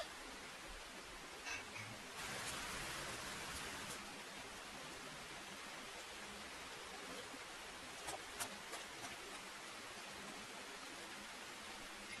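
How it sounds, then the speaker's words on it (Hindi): Steady soft hiss of rain falling, continuous and fairly faint, with a few brief louder patters. "बारिश शुरू हो गई है।"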